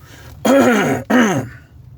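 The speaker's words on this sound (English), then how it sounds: "let me clear my throat" A person clears their throat in two strong, rasping bursts, close and loud, separated by a brief pause, with quiet before and after.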